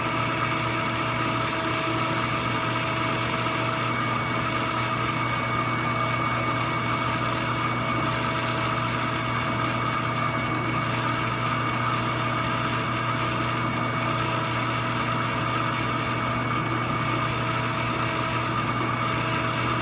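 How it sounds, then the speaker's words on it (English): Aluminum pulley blank turning on a lathe while a cutoff tool lubricated with tap paste cuts a center groove, giving a steady machine hum with a faint whine that holds level and unbroken throughout. "Here I'm using the cutoff tool to put the initial groove in the center of the pulley blank."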